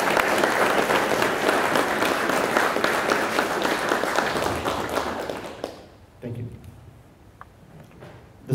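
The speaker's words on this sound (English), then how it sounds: "would you please give them a well-deserved round of applause?" A crowd at a sheriff's academy cadet graduation gives drill instructors a dense, sustained round of applause that tapers off after about five seconds, leaving scattered claps and quiet room noise.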